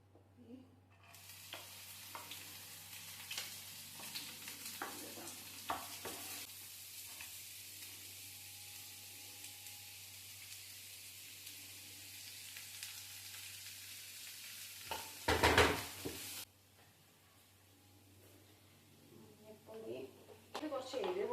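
Mustard seeds splutter in hot oil, a faint, quiet crackle and pop with occasional stirring scrapes, while a person talks at times over the frying.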